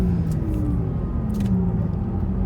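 A Porsche Taycan electric car accelerating hard on a race track makes a loud, steady low rumble of road and wind noise from inside the cabin, with a faint rising whine.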